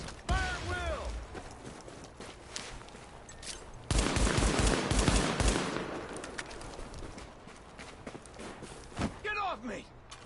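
Handgun fire in a Tom Clancy video game during a sidearm-only match: a dense run of sharp shots in the middle, with scattered shots before and after, mixed with game voices and background effects.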